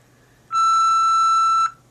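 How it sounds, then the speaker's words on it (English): A single loud, pure electronic tone of about a second from a telephone answering machine, starting abruptly after near silence and cutting off cleanly. "leave your name, telephone number including area code, and a message at the tone"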